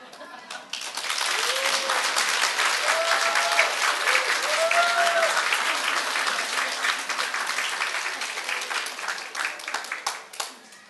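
Sustained applause from a seminar audience follows the end of a lecture at a parents' seminar, with many hands clapping steadily and fairly loudly, a few voices calling out early on, and the clapping thinning out toward the end.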